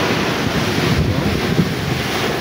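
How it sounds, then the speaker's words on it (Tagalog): Sea waves surging around houses in Surigao City during Typhoon Kristine, a loud, dense roar of surf mixed with heavy wind buffeting the microphone, continuous throughout. "Mga silingan, dagat naman na diri"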